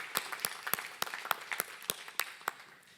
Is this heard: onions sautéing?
no